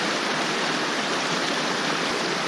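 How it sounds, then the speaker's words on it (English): Rushing stream water flows steadily and loudly while a flexible water-filter bottle is filled in it, a dense continuous splashing wash with no talk. "to filter water, you just have to fill up the flexible bottle"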